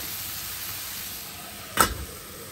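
Cauliflower and onion cooking under a lid in a pan give a soft, steady sizzle, with one brief louder burst of hiss partway through.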